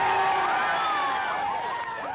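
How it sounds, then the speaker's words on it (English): Crowd cheering and whooping at a women's supercross event, a steady roar of many voices with higher shouts rising over it, loud and sustained throughout. "You guys gonna cheer real loud for all the women here?"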